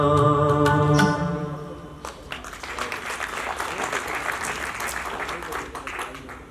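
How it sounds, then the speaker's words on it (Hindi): Audience applause at an Arya Samaj bhajan gathering in Fazilka, a dense patter of clapping rising after a sung note fades and continuing steadily at moderate loudness to the end. "तालियां आपकी जिस तरीके से बजनी चाहिए थी उस तरीके से शायद नहीं बजी"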